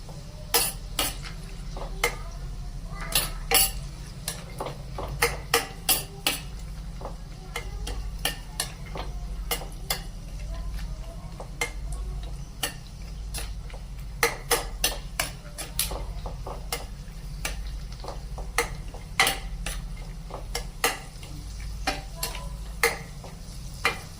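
Dry fruits and raisins being fried and stirred in a pan for a bottle gourd halwa, giving repeated sharp scrapes and clinks of a spoon against the metal over a steady low frying hiss, close and with no talking.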